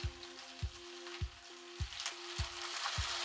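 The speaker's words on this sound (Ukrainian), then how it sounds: "Часничок піджариться трішки." Steady sizzle of garlic frying in a hot pan, with a soft low tapping repeating about every half second underneath.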